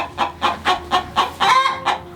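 A chicken on a cattle farm clucks loudly and close by in a quick run of about eight rhythmic pulses, with no talk over it.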